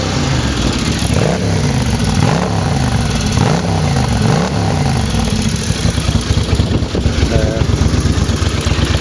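A 1983 Honda GL650 Silverwing Interstate motorcycle engine running close by, loud and raucous, with several rising-and-falling revs early on before settling into a rough, throaty idle.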